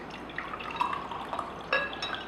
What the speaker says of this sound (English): I'm going to actually put some oil here.